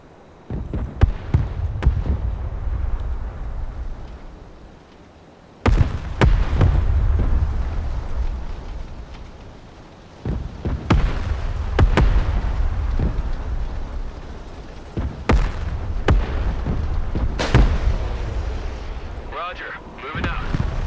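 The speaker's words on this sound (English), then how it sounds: "here comes the artillery again" Artillery barrage in the military strategy game Broken Arrow: heavy booming explosions land at intervals, each a sudden loud blast trailing into a rumbling roar, with quieter gaps between impacts.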